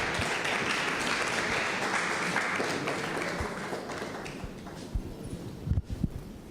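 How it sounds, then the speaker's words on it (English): Applause from an audience at a university parents' night, a dense burst of clapping that starts at full strength and slowly thins, ending in a few scattered louder claps. "With a round of applause"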